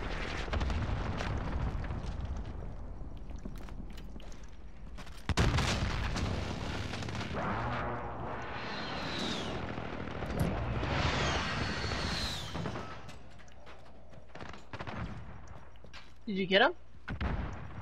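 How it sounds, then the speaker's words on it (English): Sentry gun in a first-person shooter video game opens up with sustained rumbling automatic fire and booming impacts, with a player's voice talking over the din. "A sentry gun just killed me."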